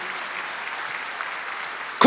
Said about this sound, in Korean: 믿는 사람은 박수 쳐보세요.